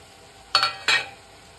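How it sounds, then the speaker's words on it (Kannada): Cut boiled eggs drop into sizzling egg masala curry and get stirred, two short scraping bursts close together over a quiet simmer. "ಇದಕ್ಕೆ ಕಟ್ ಮಾಡಿರೋಂಥ ಮೊಟ್ಟೆ ಸೇರಿಸ್ಕೊಳ್ತಾ ಇದ್ದೀನಿ"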